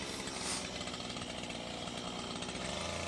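A chainsaw held at an angle carves wood into an owl, its engine running loud and steady with a rough buzzing drone and no pauses.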